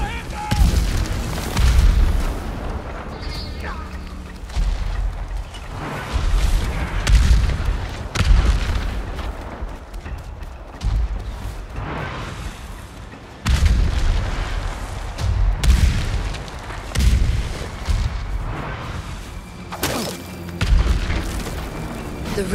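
Booming explosions and heavy artillery blasts erupt repeatedly in a Ghost of Tsushima battle on Iki Island, loud and dense, with shouted voices mixed into the chaos.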